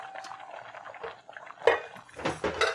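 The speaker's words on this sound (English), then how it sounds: "So we're going to drain this off now" Boiled eddoes being drained from a pot: clattering metal pot and lid knocks with splashing, pouring water, the clinks growing louder toward the end.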